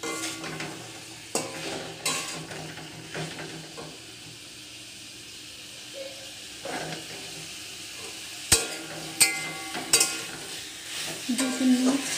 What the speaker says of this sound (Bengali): আলুটা দিয়ে দিয়েছি, এবার ভালোভাবে মশলাটার সাথে কষে নেব।